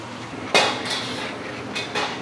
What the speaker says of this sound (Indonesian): Bawang putih yang paling pertama ya, kita hilangin getahnya dulu, kita bikin wangi dulu.